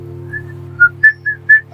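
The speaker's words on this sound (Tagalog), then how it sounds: "nagsisipol-sipol nga lang po eh" A person whistles short, bright rising notes in a quick uneven series over a steady low hum, close and fairly loud.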